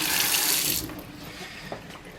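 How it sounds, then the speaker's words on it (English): Running tap water rinses an anodized vintage model engine part, a loud steady rush of water that drops to a softer trickle partway through. "Now the demineralized water. Flush very good, is important."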